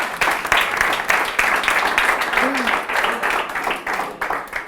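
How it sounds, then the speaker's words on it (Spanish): Audience applause at a public-speaking talk, a steady, fairly loud spread of clapping across the room with faint voices mixed in. "Un aplauso para el follonero"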